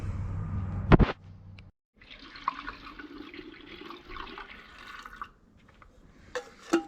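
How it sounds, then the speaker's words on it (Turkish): Petrol and two-stroke oil poured into a Stihl MS 250 chainsaw's tank: a sharp clack, then a thin, steady liquid stream gurgling for several seconds, ending with a few small clicks. "benzin ve yağını da dolduruyoruz"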